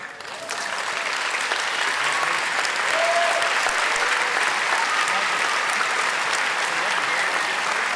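Audience applause at a science fair awards ceremony builds within the first half second and then holds as a loud, sustained wall of clapping, with scattered voices and cheers mixed in.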